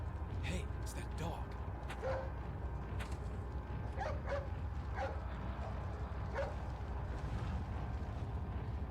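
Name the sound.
dog barking and whimpering in Resident Evil 4 video game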